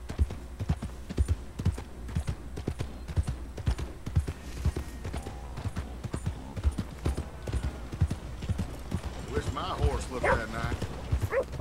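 Horse hooves clip-clopping in a steady walking rhythm through a town in Red Dead Redemption 2, close and distinct, with a voice talking over the hoofbeats and a brief horse snort toward the end.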